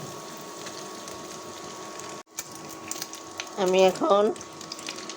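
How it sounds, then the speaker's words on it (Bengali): Chicken meat fries in a pan, just after eggs were fried, for restaurant-style fried rice. A soft, continuous sizzle runs throughout, briefly broken by a sharp drop, and someone speaks a few words over the frying near the end. "মুরগির মাংসটা এটা ভেজে নেব"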